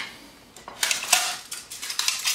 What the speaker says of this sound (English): got a little windshield for it, and that goes together very simply